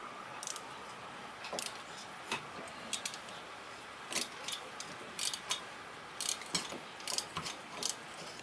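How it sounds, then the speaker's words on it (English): A small wrench ratchets and clicks on a bolt under the shifter of a Nissan 300ZX, giving scattered sharp metallic ticks in irregular bursts, close and moderately quiet, with no speech. "grabbed my really tiny wrench, and I had to shimmy it under"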